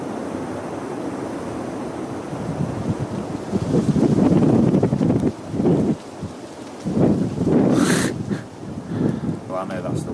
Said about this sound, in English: Well, I know that's the wind.